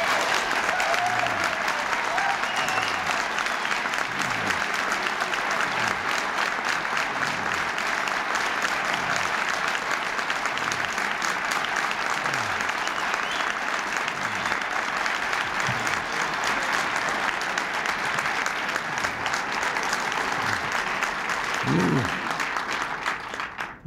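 A young crowd applauds and cheers for President Reagan at the Conservative Political Action Conference, a dense and steady wall of clapping that keeps going with no break for about twenty-four seconds.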